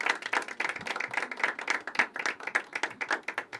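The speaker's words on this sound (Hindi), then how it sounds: "करण के लिए जोरदार तालियां दोस्तों" An audience at a poetry open mic gives a poet a hearty round of applause, with steady, dense clapping from many people throughout, close and continuous.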